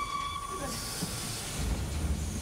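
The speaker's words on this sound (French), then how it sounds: "après que notre locomotive ait fini de manœuvrer" A steam locomotive on the Velay Express line hisses steadily while manoeuvring, with a brief fading whistle tone early on and a deeper rumble of movement joining toward the end.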